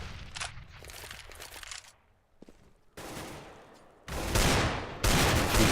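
Pistol shots ring out during a Counter-Strike match, several sharp bursts clustered near the start and loud closely spaced volleys toward the end, with quieter scuffling and movement between them.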